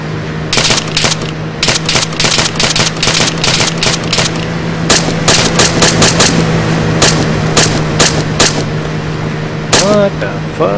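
Rapid automatic gunfire from a video game blasts at a vehicle in long, loud bursts with brief gaps, set over a steady engine drone, with a few odd electronic chirps near the end.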